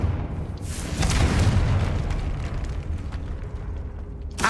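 Confringo blasting spell going off in Hogwarts Legacy, a loud sustained booming rumble with a crackling burst that swells, then trails off into a dense low roar.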